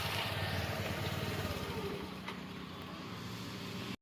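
An engine runs steadily nearby, a low continuous rumble that eases slightly midway before cutting off abruptly.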